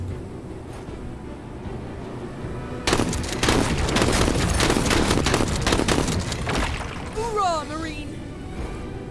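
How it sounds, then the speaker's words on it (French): Pump-action shotgun fire in a video game, a burst of loud blasts packed close together lasting about four seconds, then a fading sweep of game sound effects with speech over the mix. "Le fusil à pompe, toujours une valeur sûre."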